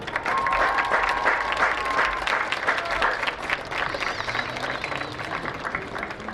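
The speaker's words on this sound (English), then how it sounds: "a big round of applause for your Auburn Senior Tigers" Loud, sustained applause from a large crowd at a high school soccer senior night, steady clapping with some cheering mixed in throughout.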